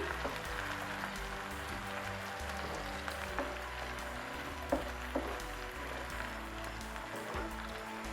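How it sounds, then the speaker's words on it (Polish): Tomatoes stirred into glassy fried onions in a pan for a green bean tomato sauce, giving a steady low sizzle with a couple of sharp utensil clinks near the middle. "Gdy cebulka jest już ładnie zeszklona, dodaję pomidory. Wszystko mieszam."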